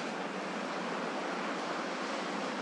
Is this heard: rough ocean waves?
yes